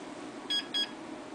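Two short electronic beeps in quick succession from a Dell Optiplex 760 computer at startup, fairly faint, over a steady low hum of background noise.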